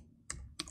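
Two quick, light keystrokes on a computer keyboard while entering a terminal command during a Docker install on Ubuntu, close but quiet against a faint background hum.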